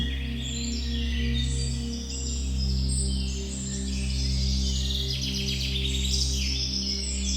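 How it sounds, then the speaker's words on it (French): Birdsong with several chirps and tweets scattered through the clip, set over a steady low drone of background music in a guided meditation evoking the Amazon rainforest. "Le chant des oiseaux."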